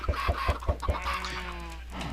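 Minecraft chickens cluck in the game, a quick run of five short clucks followed by a few softer drawn-out calls.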